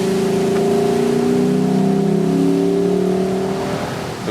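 A Lexus LC 500 convertible with its naturally aspirated V8 pulls steadily on an open road, a sustained, loud engine drone with rising harmonic tones and no talking.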